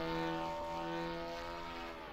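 A propeller-driven RC plane in the simulator Aerofly RC 8 drones steadily at fairly low volume, a continuous buzzing engine tone with stacked harmonics and a slight pitch drift as it flies.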